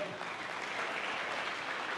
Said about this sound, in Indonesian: kalau tepuk tangan kompak itu enak